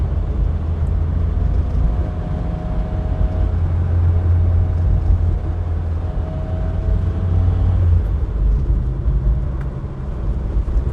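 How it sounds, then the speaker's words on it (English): A Mazda Familia 1000 drives on busy roads, cabin engine drone and road rumble steady and loud, with a low hum and occasional faint tones from surrounding traffic. "an enjoyable little drive on horribly busy roads in a Mazda Familia or 1000"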